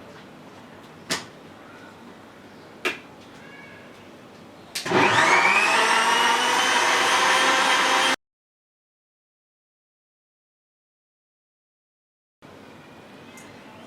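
A blender whirs loudly for about three seconds as it mixes mango into a raw vegan sweet. It spins up with a rising whine, then cuts off abruptly. Two soft knocks come before it, and a quiet room follows.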